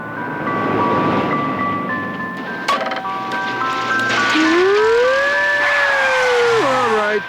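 An ice cream truck plays its tinny, melodic music jingle outdoors over street and traffic noise, with a rising and falling tonal sweep toward the end and a brief bump of noise midway.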